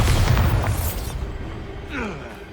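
A Bombarda spell detonates in Hogwarts Legacy, a loud low boom with a rumbling burst that decays over about a second, followed by fainter magical shimmer and game ambience.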